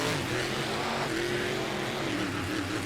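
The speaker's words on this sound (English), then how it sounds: "Both trucks on the line and ready to kick off the semifinals here as we go green. And they are off the line." Monster trucks Zombie and Gravedigger revving and accelerating off the starting line at a 2009 Tampa racing event, a loud, steady engine roar with rising pitch, heard without talk.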